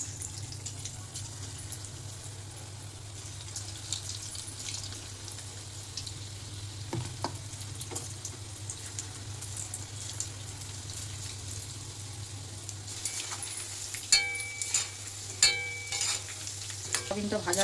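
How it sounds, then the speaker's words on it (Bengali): Soybean chunks fry in hot oil in a kadai, giving a steady sizzling hiss over a low hum, with occasional stirring clinks and scrapes growing more frequent near the end. "তেলটা গরম হয়ে গেছে, আমি ভেজে নিচ্ছি।"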